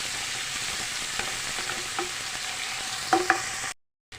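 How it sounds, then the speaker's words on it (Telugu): Ginger-garlic paste fries in a pan for a potato chilli fry, a steady sizzle broken by scraping stir clinks, then it cuts to silence near the end. "అల్లం వెల్లుల్లి పేస్ట్ పచ్చివాసన పోయేదాకా ఫ్రై చేసుకోండి"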